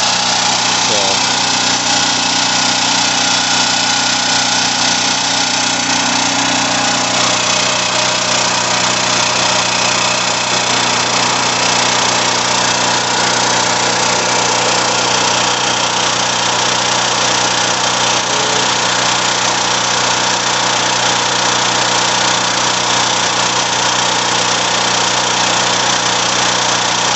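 A small portable generator engine idles steadily after a carburetor replacement, a continuous loud mid-pitched drone with a knocking undertone that holds throughout, and a voice speaks briefly over it early on.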